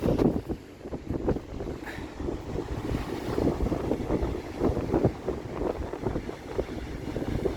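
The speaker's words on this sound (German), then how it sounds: "aber der Wind ist so stark" Strong coastal wind at the southern tip of Uruguay on the Punta del Este peninsula, buffeting the microphone in loud, gusting rushes with a low roar of surf beneath and no talking.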